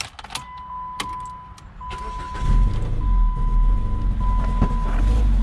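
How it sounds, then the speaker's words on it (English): A 2015 Jeep Patriot engine with its throttle body removed cranks and starts, rising from a few clicks and a thin whine into a loud, steady, close idle roar that fills the rest of the clip. "Okay, let's see if we could start it."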